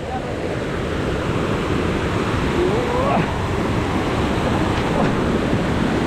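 A swollen river rushes after a landslide in Peru's VRAEM region near Cuzco, a loud, continuous broadband roar of churning water that fills the scene steadily throughout.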